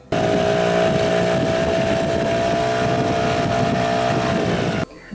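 A boat fitted with an engine brought in from another state, its motor droning loudly and steadily at close range with a sustained even hum, cutting off abruptly near the end.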